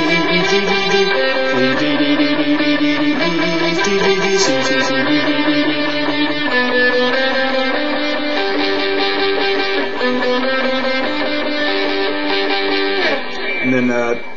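An electric guitar plays a song's chord progression, moving back to G in a steady run of sustained chords and single notes, loud and continuous.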